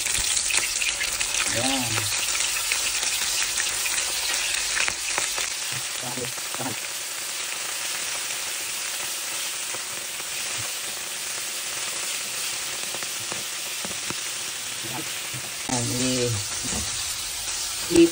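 Shrimp and squid frying in hot oil, a steady close sizzle and crackle running throughout, with brief stirring and someone speaking at the start and near the end.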